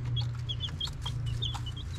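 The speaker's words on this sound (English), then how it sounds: "And that's our chickens." Backyard chickens in a coop with a heat lamp cluck and chatter in short, overlapping calls close by, over a steady low hum.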